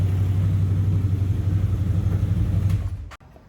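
A CFMOTO engine idles close by with a loud, steady low rumble for about three seconds, then cuts out abruptly, leaving a faint click and near silence.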